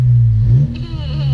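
A 2017 Honda Civic with an RV6 catless downpipe, muffler delete and cold air intake revs up close with a loud, deep exhaust drone that briefly rises and then settles.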